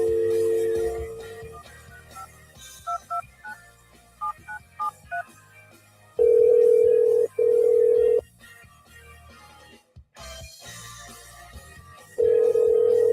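Telephone call placed on a live evening radio show: a short run of dialing tones, then loud steady ringback tones that repeat twice with gaps, ending in another ring as the line connects.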